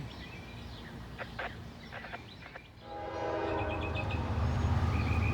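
A Norfolk Southern gondola freight train led by two Union Pacific locomotives rumbles past close by, its deep steady engine roar swelling after a few seconds, with horn-like tones and squealing metallic wheel noise above.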